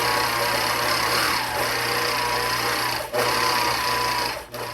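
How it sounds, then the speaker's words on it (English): A sewing machine stitches out a pantograph row in a steady, loud mechanical whir that runs almost without a break, dipping briefly twice near the end. "Now we'll stitch out the row."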